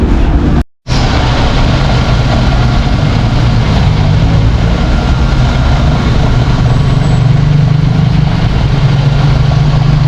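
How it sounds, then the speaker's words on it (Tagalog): A motorized bending machine shaping a spiral staircase railing gives a continuous, close mechanical drone that deepens into a heavier hum toward the end, after a brief dropout near the start. "Ngayon ay ipapabender ko na yung reeling ng power blade."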